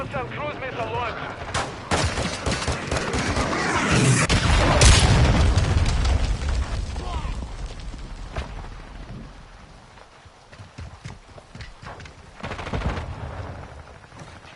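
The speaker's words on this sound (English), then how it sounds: "Hostile cruise missile launched." Gunfire, booms and missile blasts from the video game Modern Warfare 2 roar in a dense, continuous battle mix, swelling louder midway with crackling bursts and rumbling explosions throughout.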